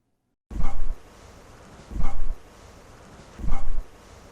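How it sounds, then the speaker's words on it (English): Growl-like sound picked up while investigating an ancient burial ground, three loud, rough bursts about every one and a half seconds over steady background hiss, with no talk. "We've got something, then a growl, and the growl is very clear."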